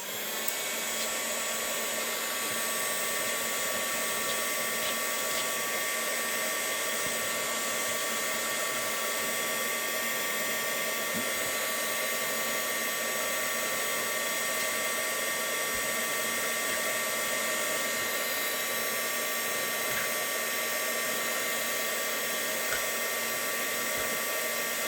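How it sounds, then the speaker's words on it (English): A heat tool blows steadily and loudly for about 25 seconds, drying alcohol ink on crinkle seam binding ribbon, with a constant airy whoosh and no breaks or talk. "I am gonna hit this with a little bit more heat to dry"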